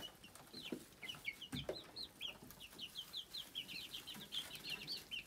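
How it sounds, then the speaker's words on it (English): Repeated soft clucks from a gold-laced Polish hen, close by, in a steady run of short chirpy calls over faint background noise. "That's a gold-laced Polish hen"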